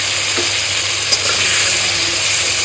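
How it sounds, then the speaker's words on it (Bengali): Spiced masala for a koi fish curry sizzles loudly in a pan as fried potatoes are tossed in, giving a steady, close frying hiss with light stirring scrapes throughout. "এবার আমি ভাজা আলুগুলো দিয়ে দিলাম।"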